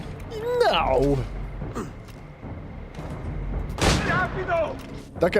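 Gunfire from the video game Assassin's Creed IV Black Flag cracks out in two bursts of loud shots, mixed with shouting game voices and someone talking over the action.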